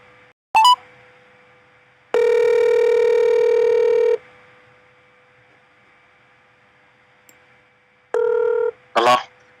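A telephone is dialed to call someone: a short tone burst, a long steady ringback or dial tone of about two seconds, quiet line hiss, then another shorter tone and a click of connection.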